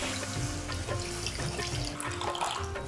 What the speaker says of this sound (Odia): ପାଣି ଦେବା।